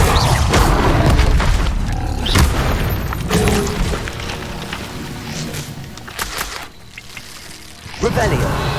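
A Confringo fire spell explodes in a wizard duelling game, a loud booming blast with crackling debris, among repeated spell bursts and shouted incantations over a dense, busy battle din.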